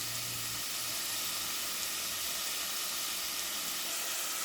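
Onions and jalapenos for ranchero beans soften in a hot pan, giving a continuous dense sizzle and steamy hiss, close and steady throughout with no talking.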